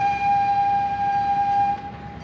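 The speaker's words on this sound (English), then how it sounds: "There's a train behind me actually." A small tour train in New Orleans City Park sounds a steady, loud horn or whistle tone that holds for nearly two seconds and then cuts off, with rumbling outdoor noise underneath and no talk.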